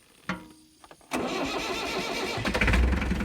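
A cold diesel tractor engine cranks and catches after its glow plugs are run, then settles into a loud, close, rough clattering idle with a brief rise in revs near the end.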